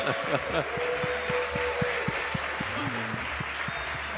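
A small group applauds a winning quiz team at a game show, scattered claps over a steady room hum with a voice briefly murmuring underneath.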